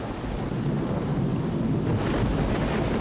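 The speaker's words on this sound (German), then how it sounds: "Ach, das gewittert aber schön." A thunderstorm in the video game STALKER: Shadow of Chernobyl rumbles in a continuous low roll of thunder with rain and wind, steady and fairly loud, with no voices.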